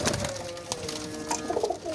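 Domestic flying pigeons give a couple of soft, close, throaty coos, brief and rounded, with no talking.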